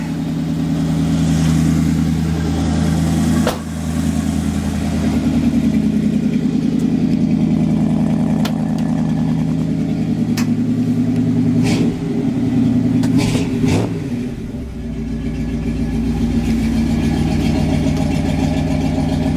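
Chevrolet K-10 truck engine idling while it warms up, a steady low rumbling drone that runs throughout, close and continuous, with a few brief clanks over it.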